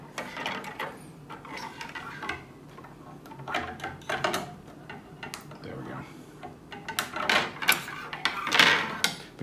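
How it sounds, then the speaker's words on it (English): Ratcheting hinges on a transforming toy robot click in short, irregular bursts of sharp ticks, close and fairly quiet, with a voice talking intermittently between them. "these are on actual ratcheting hinges"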